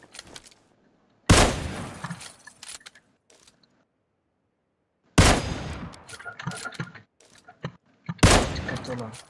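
Gunfire in PUBG Lite on the Miramar map erupts in three loud, close bursts of rapid shots separated by near silence, each burst trailing off into scattered single shots and faint clatter.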